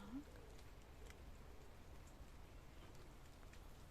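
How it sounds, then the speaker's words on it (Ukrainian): Light rain falling outdoors near a lake and forest, a faint steady patter of drops with a soft hiss, distant and low in level, no voices. "зараз дощик іде"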